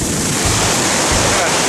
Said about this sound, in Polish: O, teraz fala poszła do góry